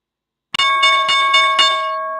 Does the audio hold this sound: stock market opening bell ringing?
yes